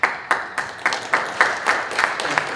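A small audience at a business-school workshop claps, with about nine distinct, fairly loud hand claps in an uneven, accelerating rhythm that thickens into brief applause toward the end.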